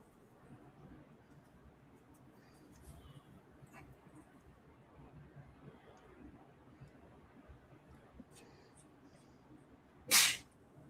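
A single sharp sneeze bursts out near the end, loud against a quiet, faintly rustling room.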